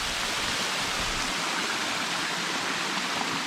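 Rushing water at the top of a waterfall at Twin Falls Resort State Park, a loud, steady, broadband roar heard close up with no other sounds.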